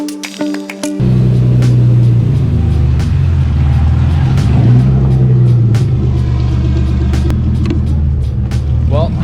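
Loud, rough car engine with a rear mount turbo setup rumbles and revs close by, a steady throaty drone with small surges in pitch.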